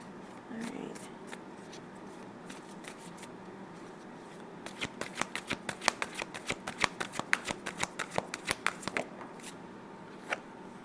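Playing cards being shuffled by hand, a soft rustle at first followed by a rapid, close run of crisp riffling snaps and flicks, then a final single snap in a quiet room.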